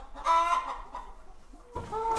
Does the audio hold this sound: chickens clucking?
yes